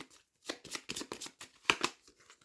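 A deck of playing cards being shuffled by hand, a quick run of crisp riffling bursts close by, each flutter of cards sharp and papery against a quiet background.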